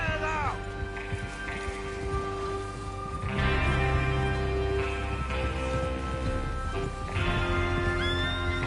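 Several horses in Red Dead Redemption II whinny loudly in turn over a steady bed of hooves clopping and shuffling, with muffled talk mixed in throughout.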